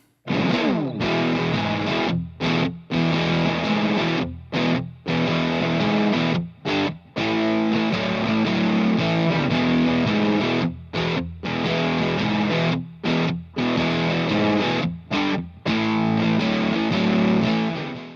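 Electric guitar through a thick, fuzzy Analog Man Sunface germanium fuzz pedal, playing chunky rhythm chords and riffs in bursts with brief silent gaps between phrases, loud and saturated.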